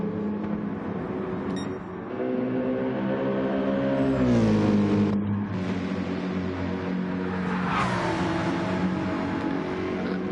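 A Nissan GT-R race car drives past at Spa during 24 Hours of Spa pre-qualifying, its engine revving hard with rising and falling pitch through gear changes, loud and close, then fading as it goes by.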